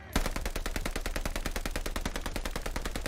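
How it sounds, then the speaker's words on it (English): Rapid, evenly spaced machine pistol fire in the multiplayer beta of Call of Duty Vanguard, a loud, close, sustained automatic burst lasting about three seconds with no talking. "Machine pistol. Like, there's more recoil on that"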